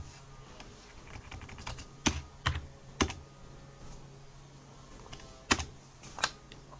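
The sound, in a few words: typing an apt-get install command on a keyboard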